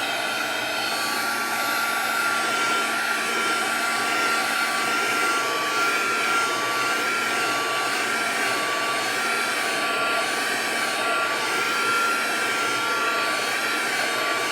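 A heat tool blows steadily to dry ink on masking tape, a continuous loud whirring hiss that holds an even level throughout with no voices.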